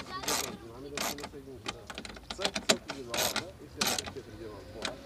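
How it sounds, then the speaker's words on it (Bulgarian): Ratchet tightening the three bolts of a car headlight with the front bumper removed, heard as quick bursts of close clicking with brief pauses between them. Someone talks quietly in between. "Сега стягам последователно трите болта."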